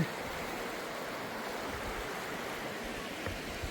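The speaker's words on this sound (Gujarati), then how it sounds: "અને આમ જો અહીંથી પાણી આવે છે" River water rushes beneath a swaying wooden footbridge, a steady, dense flowing roar that holds evenly close by throughout, with no voices.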